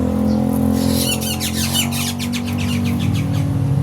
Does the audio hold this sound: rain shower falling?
no